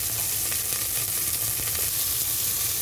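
Ginger, lemongrass and onion sizzle steadily in a hot pan as they are sautéed, a dense continuous frying hiss with faint stirring scrapes throughout and no voices.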